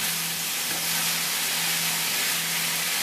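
Peppers and onions for fajitas sizzle and hiss steadily in a hot pan, a dense, even frying noise close by with a faint hum beneath and no talking.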